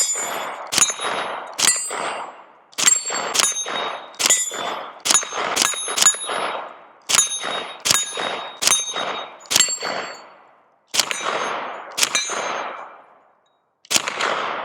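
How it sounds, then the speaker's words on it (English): A Ruger LC Carbine in 10mm fires about fifteen loud, sharp single shots at an uneven pace, each with a ringing metallic tail and a short pause near the end. "let's go ahead and take it off safe and shoot"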